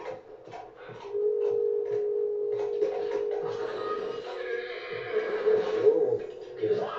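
A horse in The Last of Us on PS3 lets out a long, drawn-out whinny over game ambience, with a steady tonal note running through it and some rustling movement nearby.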